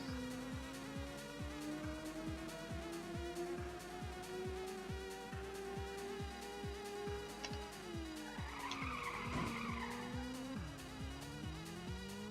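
Race cars in the 1995 PlayStation game Ridge Racer hum with a sustained engine whine over a fast, regular ticking pulse. Near the end comes a short burst of tire squeal as the pitch dips.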